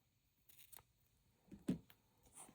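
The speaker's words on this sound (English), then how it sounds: "you take your scissors and you cut your yarn" Scissors snip through crochet yarn while a granny square is finished, giving a couple of short, close, quiet cuts with a sharper snip near the end and no talking.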